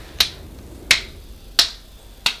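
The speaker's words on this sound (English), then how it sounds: "I'm clapping for the Kindred" Four slow, evenly spaced hand claps, crisp and close, each a sharp single crack with quiet gaps between and no talking.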